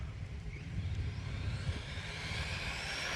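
A Rlaarlo XTS F10 RC rally car on a 4S ESC drives at full throttle, its electric motor giving a steady, moderately distant high whine over low rumbling road and wind noise, with no talking.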